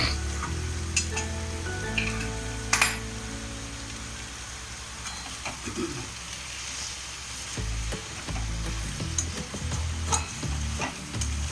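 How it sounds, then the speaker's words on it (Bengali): Mutton liver ghugni being stirred and sautéed in a pan, with steady close sizzling and frying under repeated scraping stirs, alone without talk. "আর একটু কষা হবে, ভালো করে কষতে হবে।"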